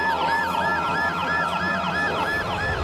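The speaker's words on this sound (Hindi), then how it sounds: "पुलिस की गाड़ी आकर रुकती है" A wailing police siren rises and falls steadily in a continuous loop, loud and close throughout, with a faint murmur of crowd noise underneath and no clear talking.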